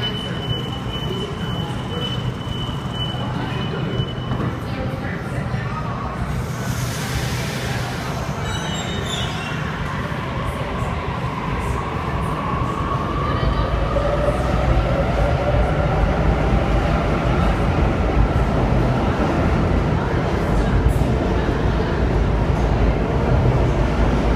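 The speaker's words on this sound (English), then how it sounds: "About to depart Platform number 2, we have a Blacktown service." A Sydney suburban train heading for Blacktown departs Platform 2 at Town Hall station, giving a continuous underground rumble with a rising whine and wheel squeal that swells in the second half.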